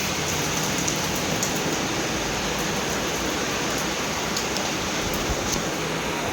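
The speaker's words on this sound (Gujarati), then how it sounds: "મસ્ત મજાની બારિશ ચાલુ થઈ ગઈ અત્યારમાં" Heavy rain pours down in a dense, steady hiss that fills the whole stretch, moderately loud and even, with scattered sharper drop taps and no voices.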